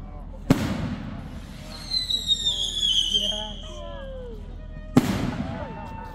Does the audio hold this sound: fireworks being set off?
yes